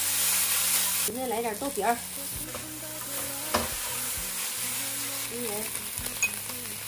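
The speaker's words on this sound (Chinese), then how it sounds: "来，咱锅中放油，土豆丝入锅" Potato shreds frying in hot oil in a pan, a steady close sizzle with stirring scrapes throughout, while someone talks over it.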